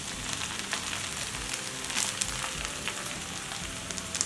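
Fried gobi and rice sizzling steadily in a hot pan for street-style gobi rice, a loud, dense crackle with faint stirring scrapes and no talk.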